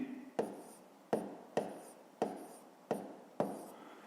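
Pen strokes on paper as numbers are written, six short scratchy bursts at a steady pace, close and quiet, with no talking.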